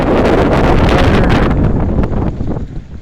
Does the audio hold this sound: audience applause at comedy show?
no